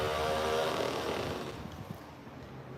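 Steady wash of outdoor background noise at a beach-side town port in Spain, with a low engine-like drone, fading somewhat after the first second; no one speaks.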